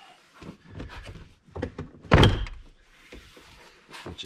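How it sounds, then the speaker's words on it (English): A door panel on a Porsche 718 GT4 comes loose with a loud plastic clunk and rattle in the middle, surrounded by softer clicks and handling noises at close range. "And the door should be able to pull straight up."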